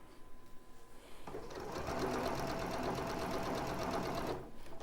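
A sewing machine top stitches a quilt top with a scant quarter-inch seam, starting quietly, then running fast and steady in a continuous close whir for several seconds before slowing to a stop.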